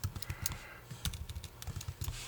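Quick bursts of typing on a computer keyboard, close and fairly quiet, a run of irregular key clicks over about two seconds with no talking.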